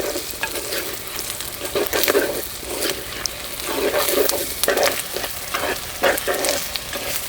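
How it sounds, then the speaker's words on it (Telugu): Green chillies and onions fry in a pan for a prawn and mango curry, giving a steady sizzle broken by repeated scraping stirs, close and moderately loud with no talking. "ఈ పచ్చిమిర్చి వేసాక ఒక 2-3 నిమిషాలు వేగనివ్వాలండి."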